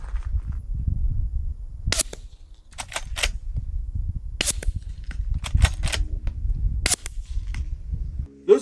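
Suppressed gunshots fired a few feet to one side of the microphone, several sharp, fairly muted cracks spaced a second or two apart over a low outdoor rumble.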